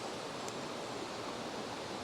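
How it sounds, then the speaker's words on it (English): Steady broadband rush of a stream's running water at a peaceful outdoor spot, even and continuous at moderate level with no voices. "Nature, the only thing you hear is the water running"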